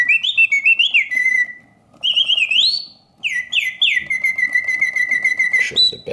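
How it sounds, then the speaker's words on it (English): A vintage Karl Griesbaum double singing bird cage automaton whistles loud, bright, mechanical birdsong close up, with rising and falling trills in phrases broken by short pauses. "both birds open and close their beaks and flap their tails, synchronize to the bird song"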